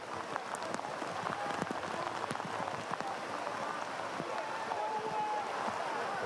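Rain patters steadily over a waterlogged soccer pitch during a college men's match, a dense wash of drops mixed with sharp scattered taps and distant crowd and player noise, heard in the open without talk.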